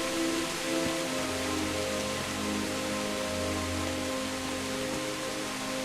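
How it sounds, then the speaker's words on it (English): Rain falls in the medieval video game Kingdom Come: Deliverance, a steady pattering hiss laid over a droning, humming game soundtrack, with no voices. "this rain is getting on my nerves"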